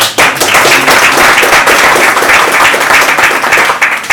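Loud, close applause from an audience at a book presentation, continuous rapid clapping filling the whole stretch with no talk over it.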